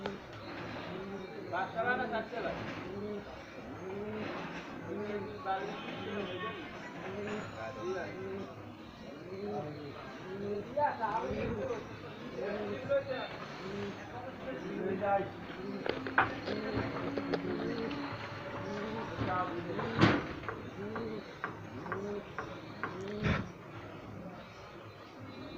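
High flyer pigeons coo in repeated soft, rounded calls close by, layered with other bird chirps and a steady voice talking throughout.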